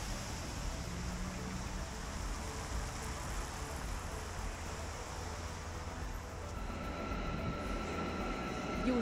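An Almaty metro train rolling through a tunnel, a loud continuous rumble and roar of wheels on rails, with a faint squeal rising near the end.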